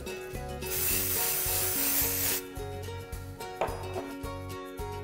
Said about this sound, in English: When you're finished, secure it again with some hairspray.